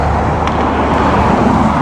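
Steady roadway noise from cars going by on a road near Yellowstone, a continuous broadband rumble with no clear single pass, close and fairly loud throughout.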